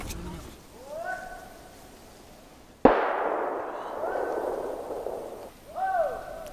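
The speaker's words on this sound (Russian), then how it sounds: "Был выстрел" A single sharp, loud gunshot during a roe deer hunt cracks out mid-clip and rings off into a lingering echo, with faint voices or calls around it.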